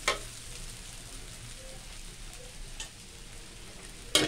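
Yellow noodles sizzle and hiss as they are stir-fried and tossed with seasoning in a hot wok, a steady close frying crackle with a few brief clatters of the utensil.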